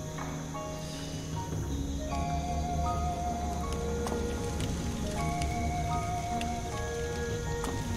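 Video game rain from XING: The Land Beyond: steady, soft rain patters continuously with scattered drip sounds and faint tonal blips in the background.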